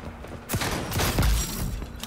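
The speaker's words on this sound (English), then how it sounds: "The shotgun is actually pretty good." Shotgun blasts in the XDefiant online shooter, a couple of sharp booming shots standing out over a dense, busy layer of in-game battle noise.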